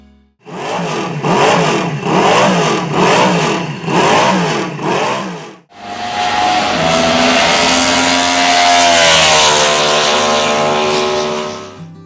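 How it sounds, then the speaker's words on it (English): A loud Moto Guzzi V8 racing motorcycle engine revs hard in several rhythmic bursts, then holds a sustained high-pitched roar that climbs steadily, close by. "Here we have the sounds of the engine revving."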